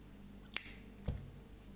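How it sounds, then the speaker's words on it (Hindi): Scissors snip crochet thread once, a quiet close crisp cut followed by a soft low clack about half a second later, with no talk. "यहाँ पर धागा काट देंगे"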